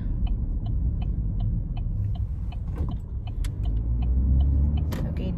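Inside a car driving along a busy back road, a low rumble of engine and tyres runs continuously, with a regular ticking and a few faint clicks over it.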